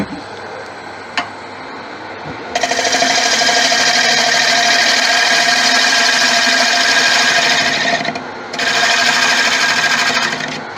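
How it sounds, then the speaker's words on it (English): Sandpaper presses against a pale Malaysian acacia bowl spinning on a woodturning lathe, giving a loud, steady, whirring hiss that runs for several seconds, stops briefly, then starts again. "I'll sand to finish the inside of that"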